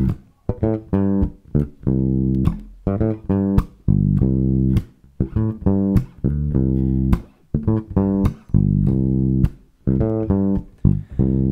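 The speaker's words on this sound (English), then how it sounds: "So I'll just play a bass line here that just uses the sixth to the fifth and the second to the first" A bass guitar plays a punchy, rhythmic line of short plucked notes with deep sustained tones between them, loud and close, with no voices.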